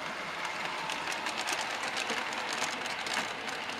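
An oil train on a loft model railway runs along the track with a continuous light rumble and faint rail clatter, fairly quiet and steady.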